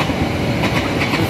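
The Argo Sindoro passenger train rushes past on the rails at close range, a dense, loud roar of wheels and carriages with faint rhythmic clacks, no voices.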